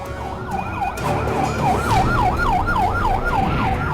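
An ambulance siren wails in a rapid, repeating rising-and-falling pattern amid busy road traffic, loud and close, with engine rumble underneath.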